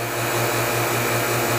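A vacuum pump on a DIY vacuum pour chamber for lost wax casting drones steadily and loudly, a constant mechanical hum with a fixed pitch and no talking.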